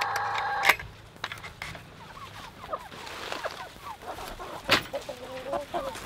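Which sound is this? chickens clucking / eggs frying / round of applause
chickens clucking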